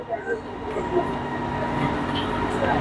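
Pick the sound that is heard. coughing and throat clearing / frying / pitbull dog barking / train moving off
train moving off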